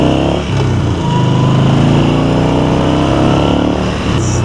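A 2017 Yamaha Bolt R-Spec motorcycle riding on bumpy, potholed Toronto streets: a loud, steady engine drone with a low rumbling throb and wind noise throughout, with no talk.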